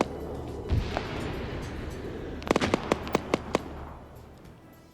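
A missile salvo fires from a VLS launcher in a military video game, a soft thump followed by a quick run of sharp cracking pops and bangs over a low rumbling background that fades out.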